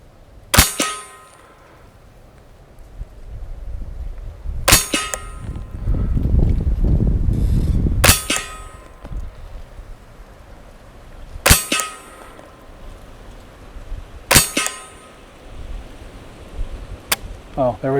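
Ruger 10/22 LVT rifle firing at steel targets outdoors: five sharp, ringing shot-and-clang impacts spaced a few seconds apart, loud and close, with a low rumble of wind or handling noise between them.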